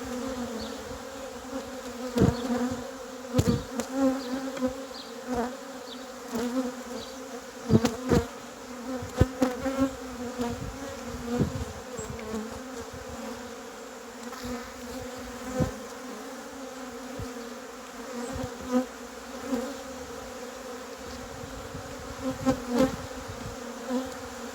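A honeybee colony drones steadily during an apiary hive inspection, with a dense continuous buzz and individual bees zipping past close to the listener, all without speech.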